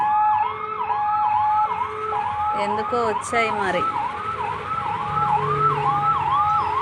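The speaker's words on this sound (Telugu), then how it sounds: "fire engine మోగుతుంది" A fire engine's siren wails loud and close in a rising-falling cycle, switching briefly to a rapid yelp midway, with traffic rumble beneath and a short spoken remark.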